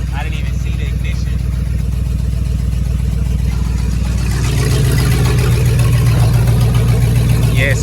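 Chevrolet Silverado pickup engine idling steadily with an exhaust leak, a loud continuous low rumble with a ticking pulse that swells slightly partway through; people talk faintly over it.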